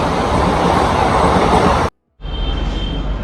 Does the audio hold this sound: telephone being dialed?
no